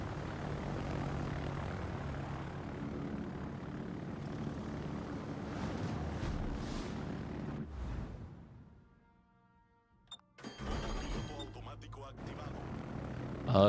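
Torpedo bomber propeller engines in World of Warships drone steadily, then fade out. After a brief near-silent gap, game effects and voices return, with talk running over much of the clip.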